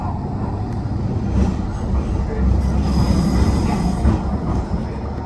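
Blackpool tram riding along the promenade from Pleasure Beach toward Norbreck Castle, a steady loud low rumble of wheels on rails with faint squeals and clatter throughout, no talking.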